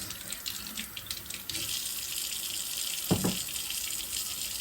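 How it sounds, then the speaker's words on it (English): Tap water runs steadily into a sink while sprouting seeds and beans are rinsed, a soft continuous splashing stream with a brief knock of the container partway through. "So I'm going to go ahead and give them a little soak and rinse."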